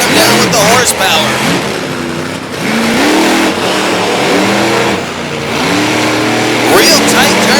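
A pulling vehicle launches hard off the start at a Monster Power pulling event in Little Valley, New York, its engine roaring loud and steady with rising revs throughout, close up under an announcer's voice.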